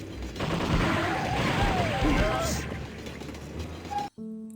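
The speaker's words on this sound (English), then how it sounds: "Machine gun." Machine gun fire in a House of the Dead style video game: a loud, dense, continuous burst lasting about four seconds before cutting off abruptly.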